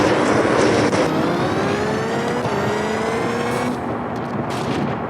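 A rally car in Richard Burns Rally accelerates hard at full throttle, its engine note climbing steadily through the gears in a loud, continuous roar with brief dips at each shift.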